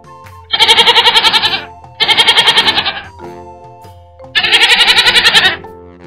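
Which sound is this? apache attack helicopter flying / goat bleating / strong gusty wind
goat bleating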